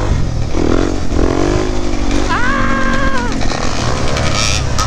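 A motorcycle rides through Philadelphia city streets, its engine loud and close under heavy wind rush, with a brief rising rev partway through.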